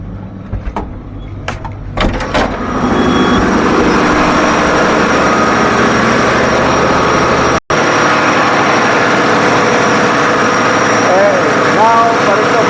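A ship's engine room with a generator running, a loud, steady low mechanical drone that swells in after a few door clanks and holds constant, with someone talking over it.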